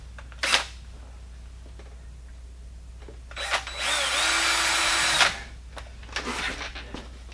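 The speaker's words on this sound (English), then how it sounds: "I need to tap it, drill right in here to where it doesn't come out of the web." A power drill whirs in a couple of short bursts, then runs steadily for about two seconds, drilling to tap a hole, close by with light clicks and handling noises around it.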